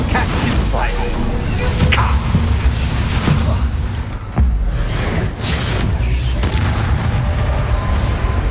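Confringo blasting spell fired in Hogwarts Legacy, a few booming blasts with whooshing swishes over dense game noise, loud and close.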